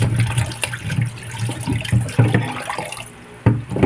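Tap water runs over a jicama as it is scrubbed clean of dust and soil, a steady close splashing stream with brief dips and surges as the root is turned under the flow.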